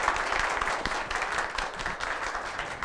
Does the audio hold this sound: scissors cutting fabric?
no